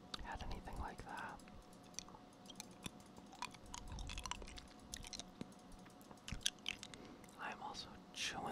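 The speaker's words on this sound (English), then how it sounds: "I'm also chewing through these Jolly Ranchers like crazy." Hard Jolly Rancher candy crunched and sucked close up, with irregular wet clicks and crackles under soft whispered talk and occasional keyboard tapping during Diablo 4 play.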